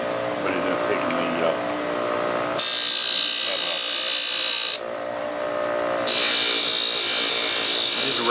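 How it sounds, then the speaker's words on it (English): Rag buffing wheels spinning at high speed against a serrated knife edge, a loud continuous whirring drone that shifts pitch as the blade is pressed on and lifted off the wheel. "These are rag buffing wheels also."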